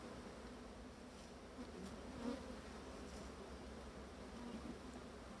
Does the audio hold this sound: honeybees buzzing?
yes